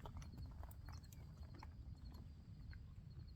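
Hooves of a ridden mare clip-clop in a steady walking rhythm over ground, fairly close, against a low rumbling outdoor background with no talking.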